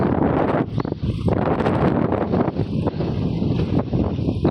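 Strong wind on a ship's deck buffets the microphone in loud, continuous gusts, roaring and rumbling without a break.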